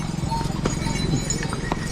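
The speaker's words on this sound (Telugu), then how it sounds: "గుర్రాలు వీళ్ళు చాలా గ్రేట్ అబ్బా వీళ్ళు భలే మోసుకెళ్ళిపోతారు" Horses walking the Kedarnath mountain trail make close, irregular clip-clop hoofbeats over a busy outdoor background with faint voices.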